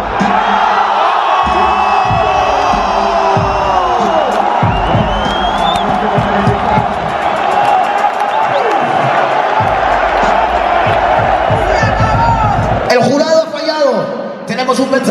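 Crowd at a Red Bull international rap battle final, loud cheering and ovation under someone talking excitedly over it, with a burst of louder shouts and clatter near the end.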